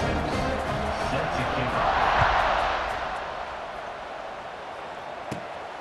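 A stadium crowd at a college football game in EA Sports College Football 26 roars and swells to a peak, then settles into a steady murmur, with a commentator talking over it.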